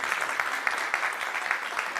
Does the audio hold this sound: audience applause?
yes